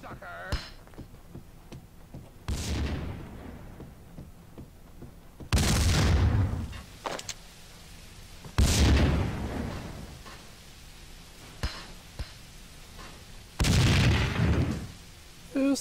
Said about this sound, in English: Who's tossing grenades?